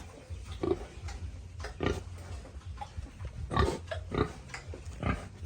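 Piglets being moved into a nursery pen on a pig farm, giving repeated short grunts and oinks at irregular intervals, close and moderately loud, with shuffling in between.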